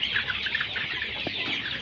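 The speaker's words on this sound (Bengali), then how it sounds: "দেখুন মুরগিগুলো হাঁপাচ্ছে অনেক গরম থাকার কারণে।" Colorbird chickens crowd a shed in hot weather, giving continuous soft clucking and chattering that sounds close and fairly quiet.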